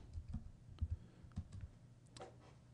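Typing a command on a computer keyboard, several quick clicky keystrokes in short bursts, quiet and close with low background hum.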